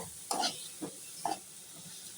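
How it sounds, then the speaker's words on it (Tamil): Ginger garlic paste being sautéed in a pan while cooking pasta, with bursts of stirring scrapes and soft sizzling, a few distinct strokes over quiet, close and fairly faint. "இஞ்சி பூண்டு போட்டு 2 வதக்கி விட்டுருங்க"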